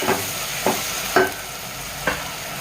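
Mint and coriander leaves are stirred in a rice cooker for chicken biryani over a steady soft sizzle, with four distinct scraping strokes of the spoon spaced about half a second apart.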